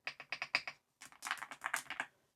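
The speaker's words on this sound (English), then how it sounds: "So this is my new keyboard." Typing on an Aula F75 mechanical keyboard: two quick bursts of crisp, close keystrokes, the first a rapid even run, the second after a brief pause and slightly softer, with no talking.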